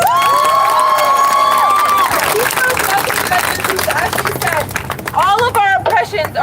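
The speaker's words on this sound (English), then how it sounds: "Give another round of applause to Alexis" Rally crowd cheering and applauding, loud and sustained with whistles and shouting voices, dense throughout and fading into scattered cries near the end.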